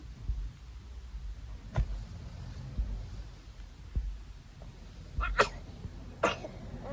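A sneeze, heard as two sharp bursts close together near the end, over a steady low rumble of background noise.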